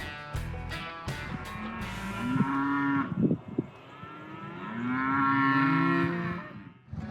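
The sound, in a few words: cattle mooing while being rounded up into pens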